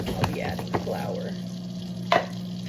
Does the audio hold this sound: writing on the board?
no